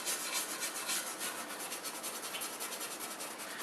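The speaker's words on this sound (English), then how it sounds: "So a steel wire brush, just to work this into the areas where the rust is the heaviest" A steel wire brush scrubs heavy rust off bare engine metal in quick, rhythmic, rasping strokes, close and fairly quiet, with no voices.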